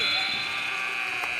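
An end-of-period buzzer at a water polo game drones loudly and continuously for the whole moment, a harsh steady electronic tone over faint arena background.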